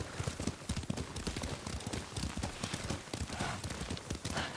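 Horse hooves clip-clop in a quick, steady riding rhythm in the samurai game Ghost of Tsushima, close and prominent, with a faint wash of background ambience around the footfalls.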